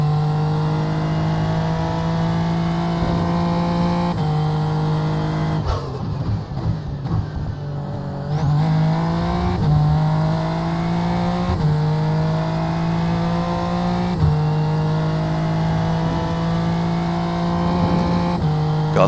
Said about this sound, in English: Bouncing off the rev limiter.